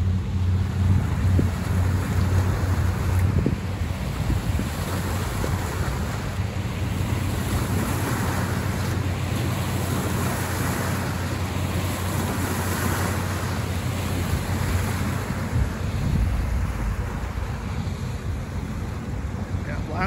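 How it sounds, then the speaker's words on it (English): Steady rush of surf and churning water from a big boat's wake at a riverfront park in Zilwaukee, Michigan, with wind buffeting the microphone, a continuous low rumble of waves rolling in close by. "look at the wake he's creating with that big boat."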